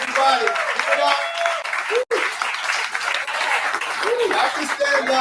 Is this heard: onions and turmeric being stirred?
no